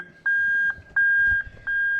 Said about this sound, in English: you can hear the annoying beep